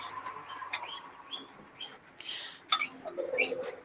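A yellow-eyed myna bird calls in a series of short, bright chirps and whistles, moderately close and fairly loud over faint background noise.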